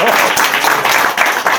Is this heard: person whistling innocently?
no